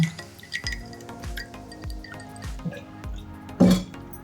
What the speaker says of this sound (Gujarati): આપણે એમાં 4 થી 5 આપણા બરફના ટુકડા એડ કરવાના છે અને ઉપરથી આપણે આ ઠંડુ પાણી એડ કરવાનું છે